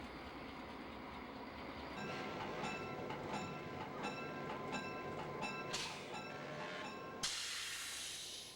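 A Wyoming Colorado Railroad train rumbles at the depot, a continuous loud mechanical roar with steady hiss and rhythmic metallic clicks, ending in a sharp burst of air release.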